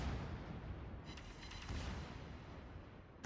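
Naval guns fire in World of Warships, a Montana battleship shooting at a Salem cruiser: a continuous heavy rumbling barrage of booms with no clear gaps, building loud at the start and ending on a sharp fresh blast.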